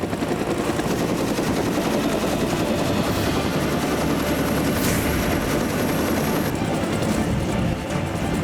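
A military helicopter flies low over the sea during a maritime rescue training drill, its rotor throbbing in a dense, loud, continuous roar with rapid chopping pulses, close by and steady throughout with no talking.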